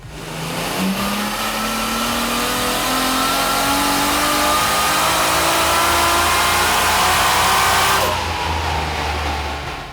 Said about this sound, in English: Jim did the first power run on wastegate pressure.